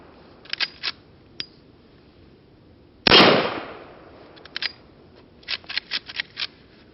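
A Rossi Ranch Hand gun is fired outdoors in the cold, one loud close shot with a decaying crack, while scattered sharp clicks of handling and cycling the action come before and after.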